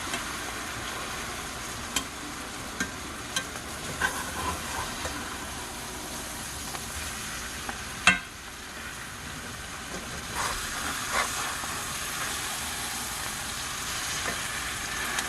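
Liver and onions sizzle steadily in a hot frying pan, with a few sharp clinks and scrapes as the pieces are turned, a louder knock around the middle; continuous close frying with no talk.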